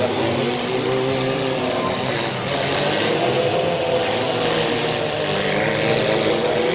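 A demolition derby car engine is being refired at a fall derby, roaring steadily and loud for several seconds with a rough, revving drone and no pauses.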